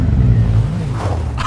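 A Ferrari in the game Fortnite roars to life, a loud, dense engine sound that fills the whole short moment with no talking.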